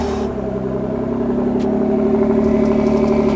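A Ford GT Heritage Edition with a titanium exhaust runs at a steady, loud cold idle just after starting, its deep exhaust drone constant and close with a slight rise in level.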